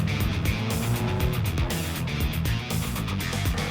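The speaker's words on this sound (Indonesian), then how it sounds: "Tidak hanya satu mobil yang terjebak lumpur" An off-road car sits bogged in deep mud with its engine roaring hard and the wheels spinning, the strained revving rising and falling in waves, loud and close.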